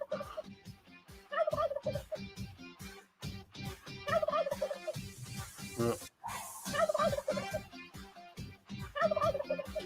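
Turkey gobbling sound effect, a burst of rapid warbling gobbles repeated in several loud, close bursts.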